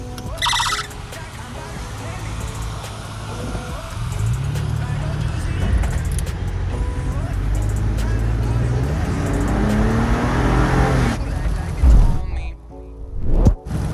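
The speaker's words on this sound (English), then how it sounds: "I'm heading home in the rain right now on the highway" Steady road and engine drone from a new Mini Cooper S cruising on a rain-soaked highway, with tire hiss and wet spray throughout, a voice talking over it, and a brief drop near the end.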